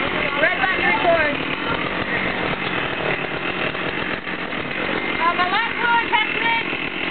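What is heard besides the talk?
chainsaw cutting a block of cheese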